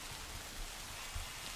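Steady rainfall in the Minecraft world, a soft continuous wash of drops with a few faint low thuds, heard alone at low level.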